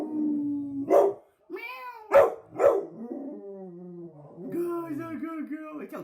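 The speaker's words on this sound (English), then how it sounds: "You howl really good." A dog howls in drawn-out, wavering tones mixed with short yips and barks, close by, during ball play outdoors; a person's voice may be heard at times.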